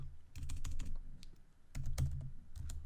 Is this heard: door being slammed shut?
no